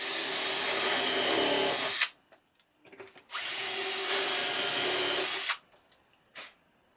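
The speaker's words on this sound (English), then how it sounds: "I drill the holes to make the dowel joints" A power drill boring dowel holes into wooden bookcase panels through a doweling jig, two steady whirring runs of about two seconds each, close and fairly loud, separated by a pause with light clicks and handling noises.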